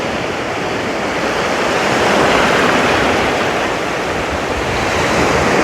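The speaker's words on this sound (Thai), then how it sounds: "คลื่นสวย" Sea waves break on a beach along the southern Thai coast, a loud, continuous wash of surf rising and falling gently, heard alone with wind across the microphone and no voices.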